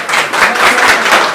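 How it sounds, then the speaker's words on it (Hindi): A crowd of people claps and applauds behind a woman being interviewed in a village, a steady, dense patter of many hands filling the whole moment without pause. "ये लोग भी आपकी ताली बजा रहे हैं पीछे"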